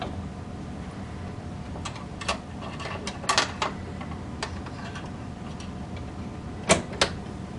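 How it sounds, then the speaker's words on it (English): A home sewing machine has its presser foot swapped for a zipper foot, giving sparse small clicks and ticks of metal parts snapping into place against a quiet room hum. "So now I'm going to switch to a zipper foot."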